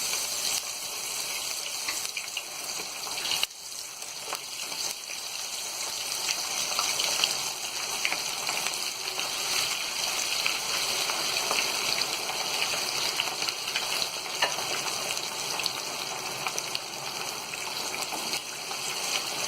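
Marinated mutton chops frying in hot oil in a kadai, a steady close hissing sizzle that holds evenly throughout, with one brief dip early on and no speech.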